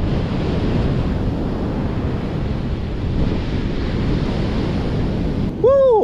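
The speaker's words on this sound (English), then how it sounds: "Now it's getting windy." Wind and surf at a beach rush steadily the whole time, loud and close, with heavy wind buffeting the microphone and a short squeak near the end.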